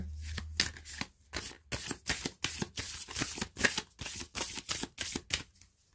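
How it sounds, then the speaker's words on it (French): Tarot cards are shuffled by hand in a quick run of crisp riffling bursts, each a short papery flutter repeating about twice a second, close and clear against a quiet room. "Je sais pas pourquoi je remélange."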